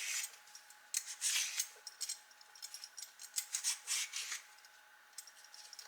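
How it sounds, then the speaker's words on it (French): Potatoes and sweet potatoes being peeled by hand in a kitchen: soft, close scraping strokes in an irregular rhythm, quiet and steady with no talking. "je vais commencer tout simplement par éplucher mes pommes de terre et mes patates douces"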